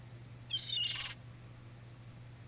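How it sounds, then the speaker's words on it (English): A single short, high seagull cry rings out once, fairly clear above a quiet room hum, followed by silence. "I like the seagull noises."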